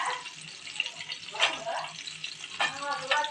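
Onions and green chillies fry in oil for chicken curry, a close sizzle with bursts of stirring, along with brief watery sounds.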